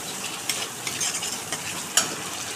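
Spice masala for a pointed gourd curry sizzles steadily in hot oil as it is stirred, with a few sharp scraping clinks of the spoon against the pan.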